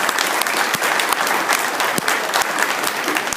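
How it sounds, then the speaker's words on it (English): Loud, dense applause from a reunion crowd welcoming a comedian on stage, a steady continuous wash of many hands clapping with a few sharper claps popping out, sustained throughout. "thank you for clapping like you know who I am"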